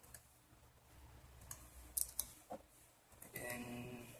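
Typing on a Dell Precision M6400 laptop keyboard, heard as scattered quiet key clicks and taps at an uneven pace under low room noise.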